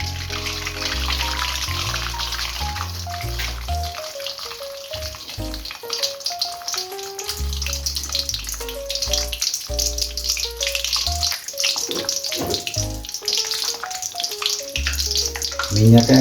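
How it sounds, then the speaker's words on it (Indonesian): An egg fries in a pan of reused oil, a steady broadband sizzle running beneath loud, continuous background music. "Sekarang saya akan masak telur ceplok."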